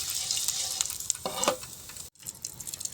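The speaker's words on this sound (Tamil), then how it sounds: "உளுந்தம்பருப்பு போட்டு அப்படியே தாளிச்சிக்கலாம்" Mustard seeds, curry leaves, dried red chillies and urad dal sizzling in hot oil during tempering for chutney, a bright continuous crackle with a few sharp pops and a short clatter of a pan or spoon, with no voices.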